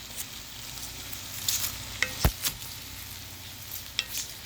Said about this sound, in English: now that the cabbage is in, we're going to mix all of this together